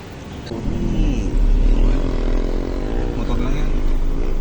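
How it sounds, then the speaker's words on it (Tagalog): A motorcycle engine passes fairly close, its droning pitch gliding up and down through the middle of the clip while people talk over the steady rumble. "Motor lang yan."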